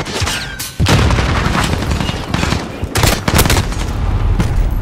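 Gunfire in the Modern Warfare video game on the Shipment map, dense loud bursts of automatic fire and booming shots in near-constant succession, close and harsh.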